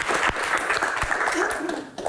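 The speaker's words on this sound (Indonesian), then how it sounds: "Tepuk tangan" Audience clapping during a Q&A session with Pak Budi, sharp individual claps within a lively crowd applause, with some background chatter mixed in.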